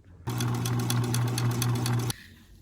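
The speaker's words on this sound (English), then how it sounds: "I'm going to sew down one side, across the bottom, and up the other to put the pocket on." A sewing machine sews a fabric pocket seam on a doorknob tooth fairy hanger, giving one steady, close, loud whirring run of about two seconds that starts and stops abruptly, with no talking.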